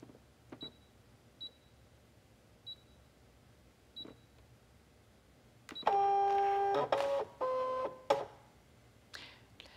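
A fabric-cutting machine scans background fabric, giving a few soft high beeps first and then a loud run of mechanical whirring and buzzing in several bursts, close and clear in a quiet room.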